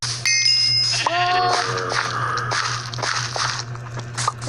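A goat in the Minecraft video game bleats loudly up close, then combat crunches and hits follow over a steady low game hum.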